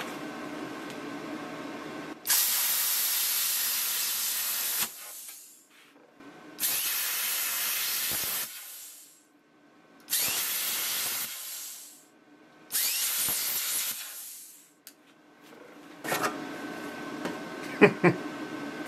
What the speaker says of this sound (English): That is 16 gauge aluminum, and wow, it cuts like nothing.